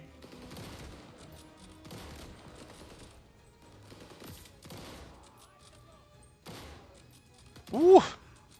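Rifle fire in a video game shown at Gamescom 2021, a series of punchy, shotgun-like shots with heavy kick spaced over several seconds, ending in one loud close blast, with a voice talking between them.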